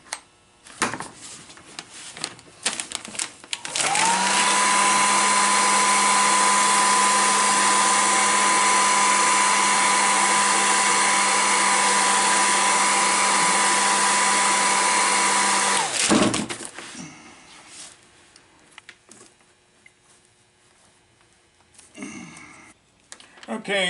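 A heat gun blows onto a Mercedes-Benz W123 rear speaker panel, a loud steady roar with a faint whine that runs for about twelve seconds. Quieter handling noises come before and after it.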